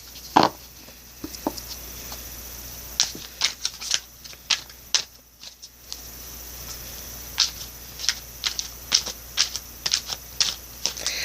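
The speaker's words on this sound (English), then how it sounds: "I'm going to do some on-screen shuffles as well" Soft, irregular riffling and tapping of tarot cards being shuffled close by, in short bursts with a brief pause midway.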